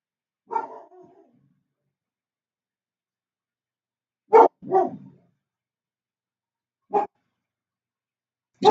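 Dogs bark in scattered bursts, a single bark with a short tail, then a quick pair of barks, then lone barks later, fairly close and loud against an otherwise silent background.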